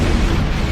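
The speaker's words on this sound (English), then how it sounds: "They do have some neat-looking explosions." A brief, loud explosion in the space game Star Trek Online: a dense burst of low, rumbling noise that fills the whole moment without fading.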